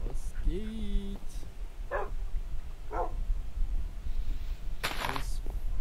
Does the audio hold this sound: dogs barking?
yes